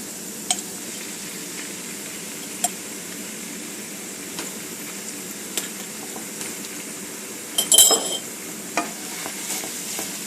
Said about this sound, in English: Now we're going to add the garlic. And you just want to heat this for about 30 seconds or so.